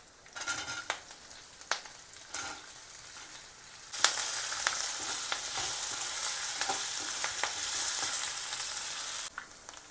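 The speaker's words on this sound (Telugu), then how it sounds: "సన్నగా తరుక్కున్న ఆలు వేసుకుందాము." Thinly sliced potatoes frying in a pan of oil with curry leaves for sabudana khichdi, a steady loud sizzle that jumps in after a few scattered crackles and stir scrapes, running continuously and close up before cutting off near the end.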